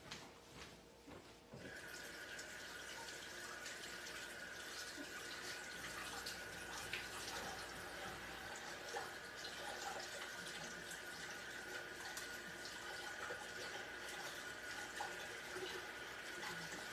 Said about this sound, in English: I'm gonna go wash my hands, okay?